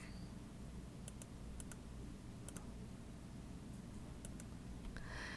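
Sharp computer keyboard and mouse clicks in short scattered pairs while a Shift key is held down, close and fairly quiet over a steady low background hum.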